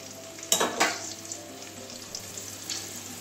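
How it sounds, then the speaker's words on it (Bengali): Ivy gourd (kundri) frying in oil in a pan, a soft steady sizzle with two sharper bursts early on as the pieces are stirred, then settling to a quieter crackle. "তিন চার মিনিটের জন্য কুঁদরিটাকে ভেজে নেবো।"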